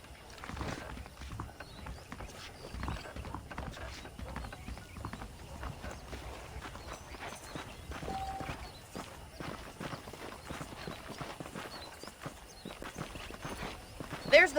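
Saddled horses walk along in the Red Dead Redemption video game, hooves clip-clopping in a steady rhythm at close range, with scattered game sounds and a brief louder burst at the end.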